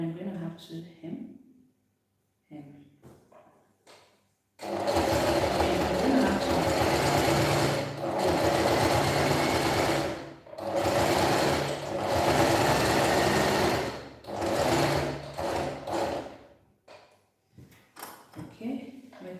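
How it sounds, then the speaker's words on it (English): A sewing machine runs in long steady bursts while stitching a hem, loud and close, starting and stopping several times with brief pauses, and soft talk before and after. "So I'm going to start stitching from the hem"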